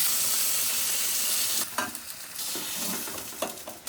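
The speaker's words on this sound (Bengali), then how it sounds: "সিম ভাজার জন্য অল্পই তেল চাই।" Flat beans frying in a small amount of oil in a pan give a steady, close hiss and sizzle. Occasional scraping stir strokes break through midway.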